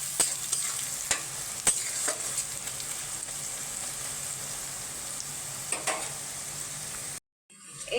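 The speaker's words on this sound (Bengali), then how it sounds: "এখনো আমার পেঁয়াজটা ভাজা হয়নি পুরো" Onions fry in a pan, giving a steady, quiet sizzle with occasional sharp clicks and scrapes from stirring, and no talking, before the sound briefly drops out near the end.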